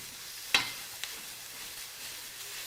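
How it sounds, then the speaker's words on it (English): Steady sizzle from a hot skillet, low and continuous, with a couple of sharp clinks of a utensil against the pan early on and no talking. "Hot skillet sound."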